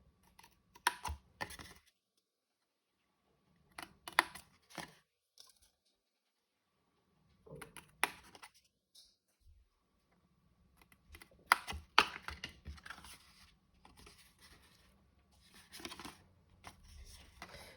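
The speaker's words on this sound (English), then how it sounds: "I want you to take a pair of scissors and I want you to snip up each of these score lines" Short bursts of quick scissor snipping into paper score lines and rustling come in separate clusters with quiet gaps between, close and fairly soft, with no talking.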